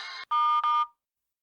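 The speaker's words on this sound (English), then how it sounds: "please excuse me, that's my phone" A mobile phone message notification tone: a short electronic chime of three bright tonal beeps with a brief gap after the first, clean and close, ending in silence.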